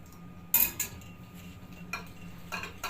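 Spoon stirring a protein drink mixture, a few light clinks and taps against the container at irregular intervals, faint and close.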